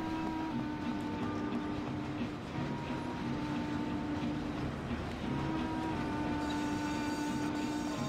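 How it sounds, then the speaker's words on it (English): A train rolls past in the video game Mafia, a steady loud rumble of wheels on rails with tonal squealing running throughout, no speech. "Oh yeah, the train, that's so nice."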